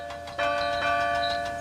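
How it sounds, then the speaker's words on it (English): A large, heavy bell in a wooden frame chimes while being loaded onto a flatbed, a sustained ringing tone with a brighter strike partway through, steady and fairly loud with no voices. "The bell chimed cheerfully as it was loaded onto Duncan's flatbed."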